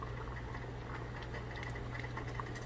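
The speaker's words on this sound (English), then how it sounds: "it's come to a boil and it's starting to thicken" Shrimp étouffée sauce bubbling at a boil in a pot, thickening as it cooks; a steady, close, soft bubbling and popping texture that runs continuously without pause.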